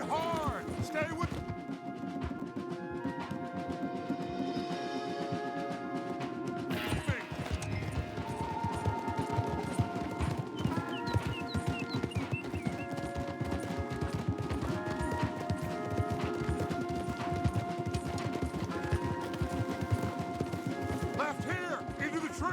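Horses gallop hard in Red Dead Redemption 2, rapid clip-clop hoofbeats pounding throughout under loud game music, shouted voices and other action noise, the riders fleeing at full speed.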